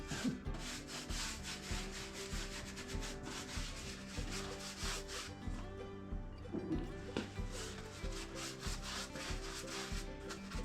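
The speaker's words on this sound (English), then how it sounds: "I'll keep putting paint on it till I have none left." A brand new paintbrush drags paint across new wood on a workbench, giving soft rhythmic rubbing strokes that repeat steadily at close range with no voices.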